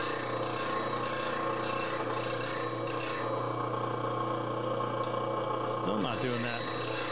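Chisel pressed hard against a tool rest while being sharpened, giving a continuous close grinding rasp that runs throughout, with a voice speaking briefly over it.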